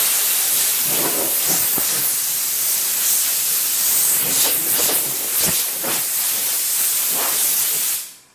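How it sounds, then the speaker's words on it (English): Compressed air gun blowing dust off a car hood panel in a garage, a loud, close, steady hiss with slight surges in intensity that runs continuously for about eight seconds before cutting off. "Now before I start, I blow the whole thing off."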